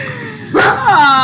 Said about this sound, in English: Ah, doggy.